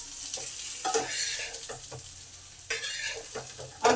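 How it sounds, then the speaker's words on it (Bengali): Potatoes frying and being stirred in a pan for a chicken and potato curry, a steady sizzle broken by several sharp scraping stirs, close and fairly loud with no talk. "আলুগুলো আমার কত সুন্দর ভাজা হয়ে গেছে"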